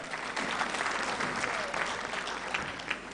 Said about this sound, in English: Can we give our president a bigger round of applause than that?